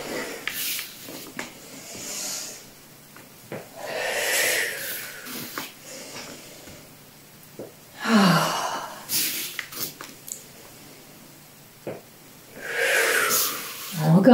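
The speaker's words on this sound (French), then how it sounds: "Tu peux expirer par la bouche." Slow, deep breaths pushed out through the mouth during a yoga exercise, several long airy exhales with pauses between, close and fairly loud, some sounding like strained sighs.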